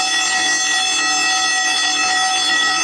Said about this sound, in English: What happened? Fire alarm,